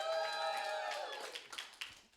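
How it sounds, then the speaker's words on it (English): A live comedy audience at a 4/20 show in Jersey City gives a rising cheer for a contestant, then scattered clapping follows, moderately loud with no clear speech. "They all seem to cheer pretty loudly for all three of them"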